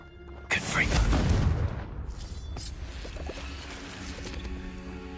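Confringo blasting spell from Hogwarts Legacy gameplay erupting in a loud, booming burst that rumbles for about a second before decaying into a crackling tail, with a softer second blast after.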